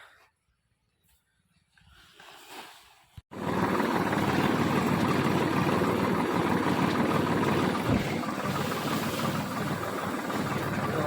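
A tractor engine pulls up at home after a grass-cutting trip. After a few quiet seconds, a loud, steady engine rumble kicks in abruptly and holds close and constant to the end.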